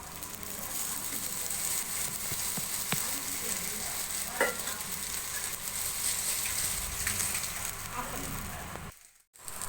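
Pieces of elephant foot yam frying in hot oil in a kitchen pan, giving a steady, dense sizzle with faint crackles and an occasional stir, continuous and close until it briefly drops out near the end.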